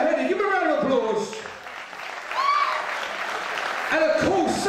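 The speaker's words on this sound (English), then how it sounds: "Give him a round of applause." A fight-night crowd in a cage-fighting venue claps for the referee, the applause rising in the middle, while an announcer's amplified voice talks over it at the start and end.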